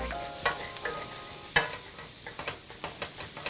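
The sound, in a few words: scraping up bits in the pan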